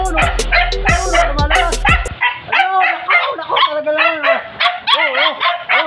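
Two puppies visiting a house bark in sharp, close bursts at first, then shift to high whimpering yips and whines.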